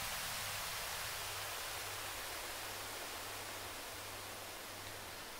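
Arturia ARP 2600-V software synth with heavy frequency modulation, a dense continuous hiss like white noise filling the whole range, with a faint low pulsing tone beneath, steady and alone.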